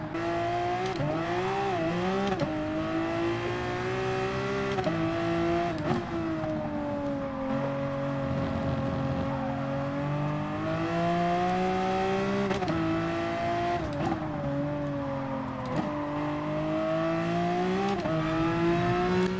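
A car engine heard from behind the car hums and drones steadily, with the pitch rising and falling through several revving and shifting cycles, fairly loud and alone, with no talk.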